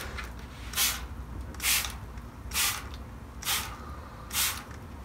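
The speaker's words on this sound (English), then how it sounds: "I got a spray bottle" A handheld spray bottle squirts five times in an even rhythm, each a short bright hiss of mist over paint and a sponge, close and clear with quiet gaps between.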